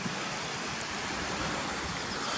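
The stream Swale Gill tumbles down through rocks toward the River Swale near Gunnerside, making a constant close rushing wash that fills the whole moment without pause or voices.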